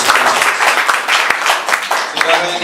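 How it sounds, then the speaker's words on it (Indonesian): A church congregation at an Ascension Day service applauds. Many hands clap in a dense, lively burst with some crowd voices mixed in. "Tepuk tangan untuk Tuhan Yesus."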